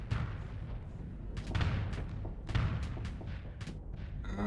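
Rapid weapon salvos firing in a combat video game, a string of heavy booming blasts with sharp transient cracks at irregular intervals over a steady low rumble.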